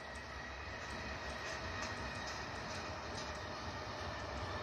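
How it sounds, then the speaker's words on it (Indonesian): Whoosh high-speed train passing on an elevated track near the Buah Batu interchange: a steady, distant rushing roar with faint rail hiss, heard alone at low level for several seconds. "Tuh, kereta lewat tuh. Kereta cepat bus dari arah stasiun Halim."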